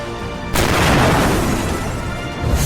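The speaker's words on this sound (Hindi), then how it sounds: "हिजबुल्लाह की तरफ से दागी गई मिसाइल के बाद यहाँ कुछ इस तरह का धमाका हुआ।" A missile strike explodes in Kiryat Shmona, caught on a surveillance camera: a sudden loud boom breaks a quiet scene, followed by a sustained roaring, crackling rumble that stays loud to the end.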